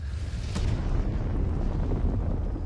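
A large explosion in the Blackwater battle scene of Game of Thrones lands as a sharp blast, then gives way to a sustained, loud, low roaring rumble that continues evenly.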